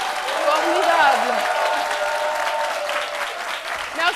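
A studio audience at a live midday television show in Côte d'Ivoire applauds steadily, a dense sustained wash of clapping with a voice speaking over it.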